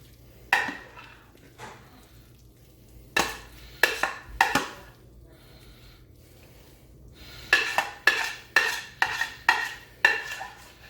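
Mac and cheese scooped from a mixing bowl into a 9x13 baking pan, with several clusters of sharp clinks and scrapes of a utensil against cookware, set apart by quiet pauses and heard close up.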